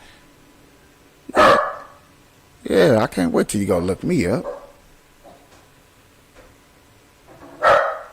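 A dog barks close by in a home, a sharp single bark, then a few more barks around voiced speech, and another bark near the end, with a person talking between them.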